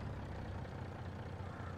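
A truck engine in Farming Simulator 22 idles with a steady, low, rumbling drone, quiet and unchanging throughout the brief stretch.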